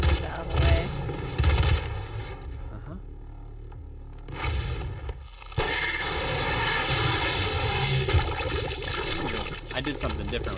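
Gunfire in DOOM, bursts of weapon shots amid loud game effects and background music, with a voice talking over parts of it.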